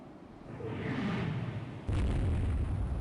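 A shell strikes the warship Berlin in the naval strategy game Rule the Waves 3, giving a sudden heavy boom over steady low ship rumble, with no talk.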